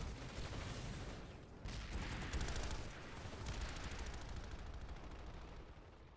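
Dense, continuous gunfire from a PlanetSide 2 battle on Hossin, with Scattermax shotguns and small arms firing in a loud, sustained clatter of overlapping shots that surges around the middle.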